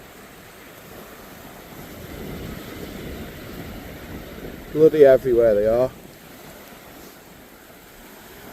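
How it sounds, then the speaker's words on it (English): Steady wind buffets an island coastline, a continuous rushing roar across the whole stretch, with someone briefly speaking near the end. "Right, let's get out of this wind."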